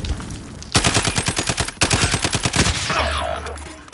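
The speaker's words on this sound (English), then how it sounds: "Taking enemy fire." Enemy machine-gun fire in a video game: two loud rapid bursts of closely spaced shots, then a lingering rumble and low hum as the shooting stops.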